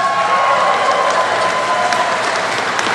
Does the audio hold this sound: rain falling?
no